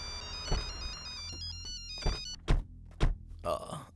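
A mobile phone plays a bright, melodic ringtone for a couple of seconds, followed by a few sharp, hollow thumps close by.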